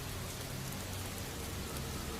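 Steady rain falls continuously as a dense, even wash of hiss and patter on surfaces, constant in level and fairly close, with no voices.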